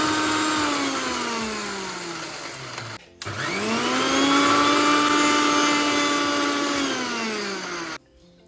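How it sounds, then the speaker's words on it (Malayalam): A kitchen mixer grinder grinds roasted rice into fine powder with a loud, continuous motor whine, briefly stopping and restarting, then cutting off near the end. "അത് ചെറുതായിട്ടൊന്ന് തണുത്തതിന് ശേഷം മിക്സിൻ്റെ ജാറിലിട്ടിട്ട് ഒന്ന് പൊടിച്ചെടുക്കുക കേട്ടോ"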